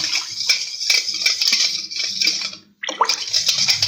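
Water pours in a steady splashing stream into a bowl of yogurt for a dahi phulkiyan dish, with a brief pause near the end before pouring resumes.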